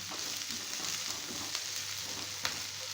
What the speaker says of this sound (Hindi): और प्याज भी डाल देंगे। इनको 1 से 2 मिनट फ्राई करेंगे।